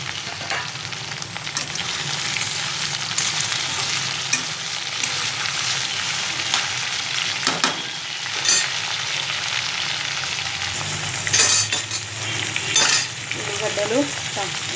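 Okra and tomatoes frying in a pan, a steady broadband sizzle with occasional louder crackles and stirring scrapes, close and continuous with no talking.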